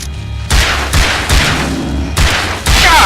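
Repeated loud gunshots from the video game Alan Wake, five heavy blasts spaced roughly half a second apart, each with a booming low thump and a crackling tail, close and dominant with no talk.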